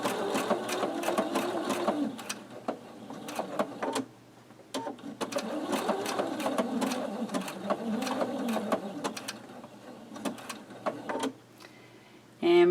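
A domestic sewing machine stitches an appliqué heart block in steady close runs, pausing briefly twice between passes, with faint clicks and no talk.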